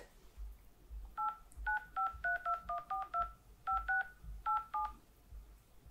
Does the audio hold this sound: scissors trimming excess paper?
no